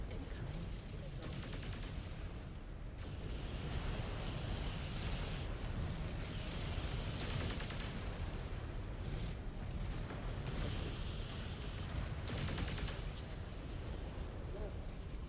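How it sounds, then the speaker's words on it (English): Incoming missile explosions in the MechWarrior 5: Clans video game, a continuous rumbling barrage of blasts and crackling impacts over heavy low-end roar, with bursts of louder detonations throughout. "Incoming missile."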